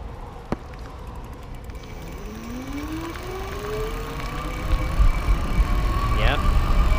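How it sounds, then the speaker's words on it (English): Voltbike Yukon electric bike pulling away from a standstill under throttle on a gentle uphill, a rising motor whine climbing steadily in pitch over steady road and wind noise, close to the rider, with talk underneath. "I'm just gonna let it coast to standstill and then use that throttle and try to see what kind of power we can get out of this thing."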